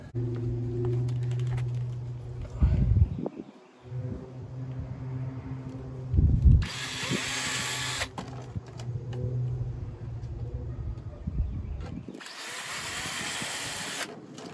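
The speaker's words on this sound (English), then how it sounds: "That way I know exactly where I want to drill my hole." A power drill whirs in several long, steady bursts with short pauses between, grinding through wood up close, with brief higher-pitched whining runs and no speech.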